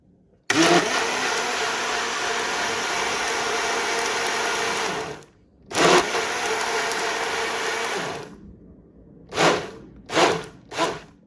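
A countertop blender whirs loudly for about five seconds while mixing a protein shake, then runs a second long burst, followed by three short pulses, close up with no talking.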